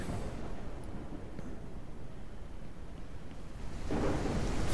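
Steady rain hisses in Ranch Simulator, a continuous broadband wash with a low rumble swelling louder near the end, with no voices present.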